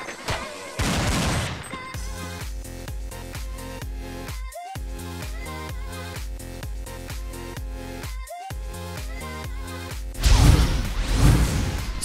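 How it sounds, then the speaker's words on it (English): Desert Eagle pistol shots in Counter-Strike 1.6 at a LAN tournament, with sharp, punchy gunshots cutting through rhythmic, thumping background music, with a loud burst near the end. "Check out these deagle shots he's able to connect"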